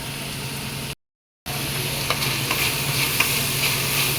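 Chicken shallow frying in a pan gives a steady, even sizzle with a brief silent gap early on, then continues with faint stirring clicks.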